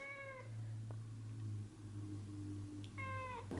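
A pet cat meows twice, once at the start and again near the end, each a clear harmonic cry over a steady low hum, close to the listener.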